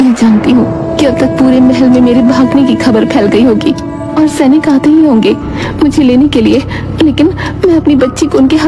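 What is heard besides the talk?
No everyday noises stand out.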